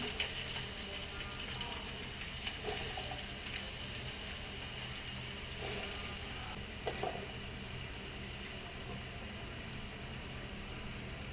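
Onions frying in oil for a one-kilogram chicken biryani, a soft, steady sizzle running throughout with faint stirring clinks, quiet and fairly close.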